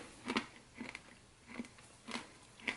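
Crunchy snack made from roasted yellow split pea flour being bitten and chewed, several close crisp crunches at irregular intervals with quiet gaps between.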